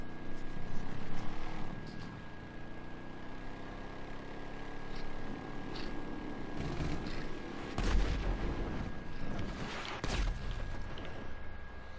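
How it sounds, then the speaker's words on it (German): Steady booming gunfire and artillery-like blasts from the video game GTA V Online roll continuously over a dense background, with heavier thumps standing out now and then. "Die schießen auf mich."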